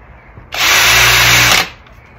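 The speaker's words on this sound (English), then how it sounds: "The largest drill bit I have is not as big as my finger, so I'm just going to drill it" A power drill bores a hole into wood in one loud burst of about a second, starting and stopping abruptly against a quiet background.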